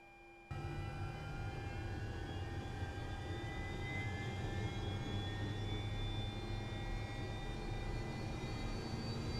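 Jet engines of an FS Academy Interceptor aircraft in Microsoft Flight Simulator 2024 start abruptly and hold a steady roaring whine with a slowly rising high tone, continuous and fairly loud, with no talk.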